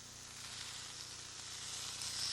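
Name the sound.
steak strips sizzling on electric grill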